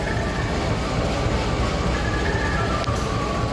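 The Kahuripan passenger train rolls into Tasikmalaya station with a steady, loud rumble from inside the carriage, faint squealing tones over it and a brief sharper clack near the end.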